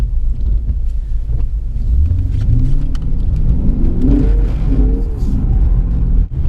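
A Lexus RC F of almost 500 horsepower accelerates hard on a wet canyon road, its engine climbing in pitch as the tires break loose, loud and close.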